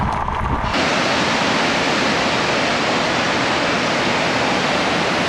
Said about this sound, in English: we have the spillway and a lot of neat waterfalls, which are coming right up.